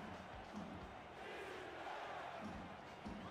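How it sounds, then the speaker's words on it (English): A large stadium crowd at a football game at Budweiser Stadium in St. Louis chants defense, a sustained roar pulsing in a steady rhythm with low thumps at regular intervals. "Crowd chants defense."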